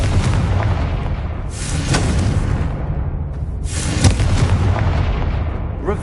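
Fiery Confringo spell blasts in Hogwarts Legacy: two loud booming explosions a few seconds apart over a continuous roaring rumble of game sound.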